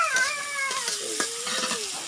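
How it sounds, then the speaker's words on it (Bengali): Onions and chili sizzle in hot oil in a pan while spices are stirred through them, with soft scraping strokes and steady frying under a faint high tone for about two seconds. "আমি এখন মশলা কষাইতেছি"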